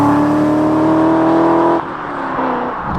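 A BMW Z8 with Supersprint headers and a full aftermarket exhaust holds a steady high rev with strong exhaust tone, then drops off sharply and settles into a lower, rougher burble.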